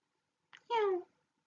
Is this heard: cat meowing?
yes